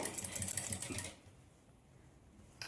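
A sewing machine stitches piping onto the neckline of a blouse in a quick, steady run of stitches lasting about a second. It then stops, leaving a quiet room.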